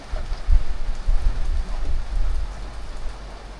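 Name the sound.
rain falling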